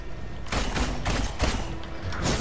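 Continuous gunfire aimed at a boss's boots in the Marvel's Avengers beta on PS4, a dense, loud stream of rapid shots with a few sharper thumps standing out.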